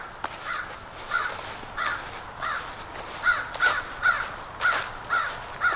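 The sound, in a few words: crow cawing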